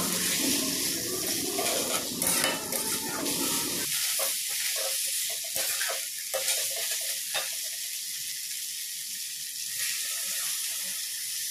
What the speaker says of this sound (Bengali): এরপর আমি দিয়ে দিচ্ছি এখানে পরিমাণ মতো জল।